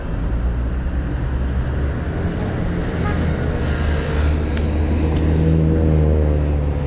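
City traffic in Vienna heard from a bicycle on the street: a continuous roadway rumble with cars passing close by and a rising engine swell near the end, no talking.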